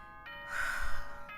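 A doorbell-style chime announcement from the Danganronpa: Trigger Happy Havoc video game, a bright sustained electronic tone that swells in the middle and fades, standing alone without talk.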